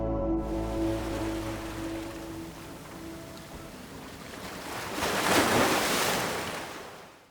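Ocean waves break on a surf coast in the Dominican Republic, a continuous broad wash of surf that swells louder toward the end before fading.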